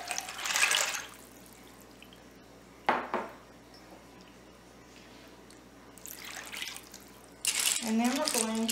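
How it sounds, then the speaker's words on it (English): Water poured from a container into a skillet of dry pasta and seasoning for a one-pan creamy Cajun pasta, a few short splashing pours with gaps between them, near and moderately loud, with speech and faint pan clinks. "We're going to take our water and add that."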